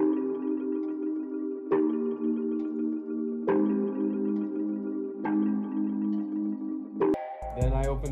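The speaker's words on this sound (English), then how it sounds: "So first I went into Omnisphere and I picked this bell balder." Synth bell chords from an Omnisphere bell preset, EQ'd and halftimed, sustaining in a slow progression with a new chord struck every couple of seconds, played alone and ending on a brief drum hit.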